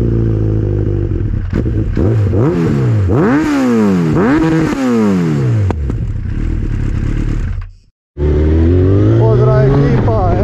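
A 2008 Yamaha XJR 1300 motorcycle, a heavy 250 kg bike, rides on the road, its engine loud and close as it revs up and down through rising and falling sweeps, with a brief drop to near silence before it pulls away again.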